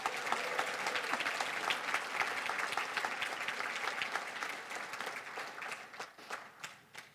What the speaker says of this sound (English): Can we give them all a big round of applause again?